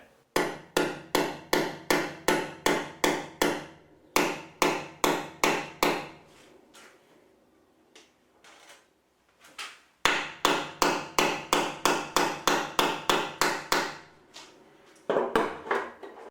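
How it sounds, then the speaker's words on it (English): A small hammer taps a pin in repeatedly in quick, even bursts of light metallic strikes, pausing briefly between runs; close and fairly loud with no voices. "using a small hammer, tap lightly on the pin and hammer it in."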